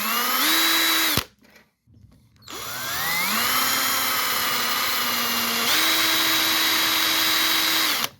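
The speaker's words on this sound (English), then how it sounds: "I need to drill the rivets out" A power drill boring out the rivets that hold an under rail to the main roof rails of a 1930s Austin Seven Ruby sunroof, its motor whining loud and close in two long runs with a brief pause between, pitch rising as it spins up.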